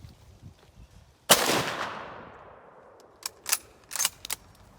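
A single loud, close rifle shot from a five-round bolt-action military rifle cracks out and rings into a long decaying tail, followed by a few sharp metallic clicks and clacks of the action being worked.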